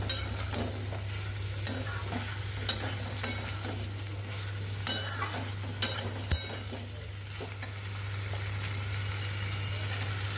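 Masala curry with fried prawns stirred and frying in a pan, with a steady sizzle and repeated sharp scrapes and knocks of the spatula against the pan, close up over a constant low hum.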